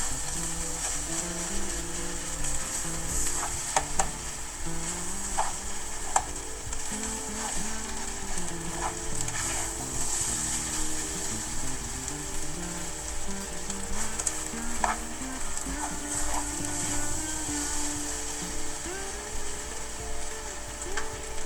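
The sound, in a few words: warm rice being stir-fried and mixed in a pan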